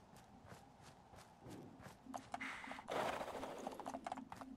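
Horses walk in Fallout London, their hooves clip-clopping in a steady, uneven rhythm that grows louder and busier toward the end, with a faint whinny and mechanical game sounds around them.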